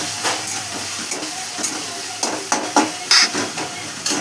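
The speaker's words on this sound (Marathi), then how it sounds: "ब्राऊन होतोपर्यंत फोडणी द्यायची आहे" Mustard-seed tempering sizzles and crackles in a hot pan with added tomato for a potato paratha filling, a steady close hiss broken by sharp pops and spoon scrapes, with no talking.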